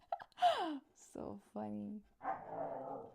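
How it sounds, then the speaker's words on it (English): A puppy gives a few short barks and whimpery yips between quiet gaps, close by, with a person briefly talking and laughing around them. "That's puppy barking."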